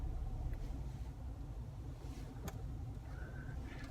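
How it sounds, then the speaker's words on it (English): Low, steady engine hum of a car in a busy supermarket car park, creeping slowly in reverse out of a space with the clutch held low, heard from inside the cabin with faint background noise. "So pop it in reverse, have a good check, and just go slow, holding the clutch nice and low"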